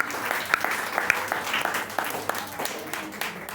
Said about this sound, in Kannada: ಎಲ್ಲರೂ ಜೋರಾದ ಚಪ್ಪಾಳೆಯನ್ನ ತಟ್ಟಿ.